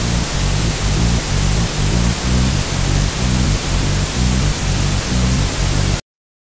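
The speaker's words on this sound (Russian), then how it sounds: "теперь я заново также выстраиваю под этот розовый шум" Steady pink noise test signal used for balancing a mix in FL Studio, loud and continuous for about six seconds over a rhythmic low thumping pulse, then cutting off abruptly.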